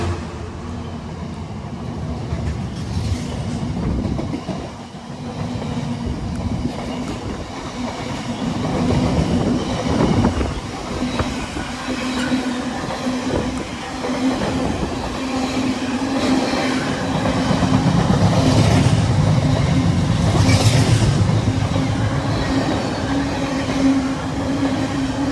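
Train rolling along the rails near a station on a drizzly day in Cheshire, a steady loud rumble and hum that builds and swells over about twenty-five seconds, no one speaking.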